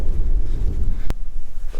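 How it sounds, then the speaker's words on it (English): Brief low rumble of wind buffeting the microphone, uneven and gusty, with a short sharp knock partway through. "It has been pretty windy."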